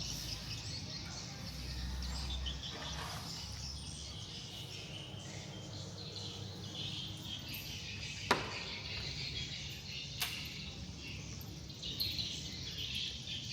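Many birds calling near a temple in Thailand, a busy chorus of high chirps over a steady outdoor hum, with a couple of sharp clicks mixed in, moderately distant and without talk.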